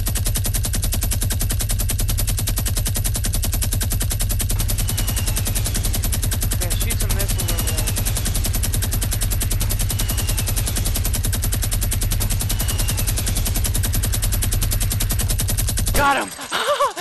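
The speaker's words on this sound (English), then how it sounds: "I'm just gonna minigun it." A minigun in the video game Fortnite fires one long, continuous, loud burst of rapid shots that roars steadily for about sixteen seconds before cutting off abruptly.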